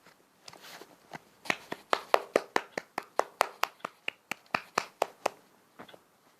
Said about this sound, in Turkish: Alkış yapayım ya.